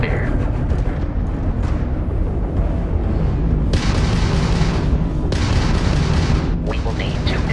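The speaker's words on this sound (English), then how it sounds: "that's a Crimson Fleet ship bringing its weapons to bear" Heavy booming weapons fire from a Crimson Fleet ship in the Starfield video game rumbles loud and continuous, with sharp bursts cutting in, under a voice speaking over the combat.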